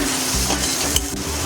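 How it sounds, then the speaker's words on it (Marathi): Turmeric, coriander powder, Maggi masala and Malvani masala being stirred in a pan over a low gas flame: a steady close sizzle with soft scraping strokes of the spoon and no talk. "पाव चमचा मॅगी मसाला, पाव चमचा मालवणी मसाला व्यवस्थित मिक्स करून घेऊया"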